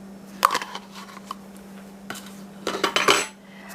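A utensil whisks an egg in a bowl for Southern hoecake batter, giving sharp clinking taps against the bowl in scattered bursts that end in a quick flurry of strokes, set over a steady low hum.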